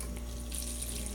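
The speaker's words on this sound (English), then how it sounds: "Let me just pour this out for" Water pours steadily into a sink, a continuous close splashing rush with a low hum underneath and no voices.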